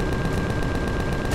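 Rapid automatic gunfire from the player's weapon in the sci-fi survival game Empyrion Galactic Survival, a steady dense stream of shots filling the moment at close range with no voices.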